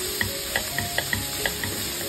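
Chopped onions stir and fry in a pan for chicken curry, a soft continuous sizzle broken by about eight quick, regular scraping knocks of the spoon, close up and with no talking.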